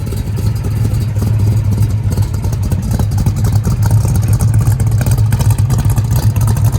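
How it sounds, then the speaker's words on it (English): A restored 1970 Chevelle with a 454 big-block V8 and four-speed runs close by, a loud, deep, steady rumble with slight lumpy pulsing and mild revving throughout, no talking. "Healthy big block."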